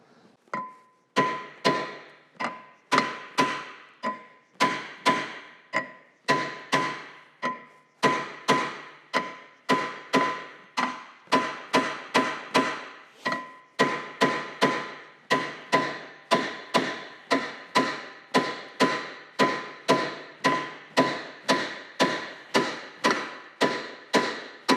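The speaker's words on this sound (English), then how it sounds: "you can just beat it with a hammer. So we're probably going to beat it with a hammer" Hammer blows beat a rear Brembo brake rotor off a Subaru WRX STi, a long run of sharp metallic thumps at a steady, quickening rhythm, loud and close with no talking.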